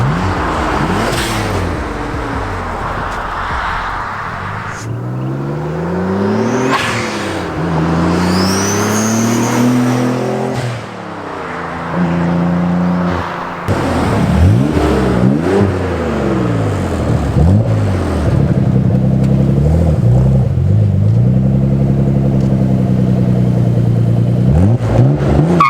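A twin-turbo Nissan 300ZX fitted with a full HKS Hi-Power exhaust revs hard and close, with repeated rising and falling engine sweeps and a deep, throaty tone that stays loud throughout.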